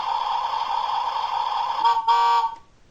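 Electronic horn on a toy bus honking: a steady buzzy tone held for about two seconds, then two short louder honks before it cuts off, close up and with no talk.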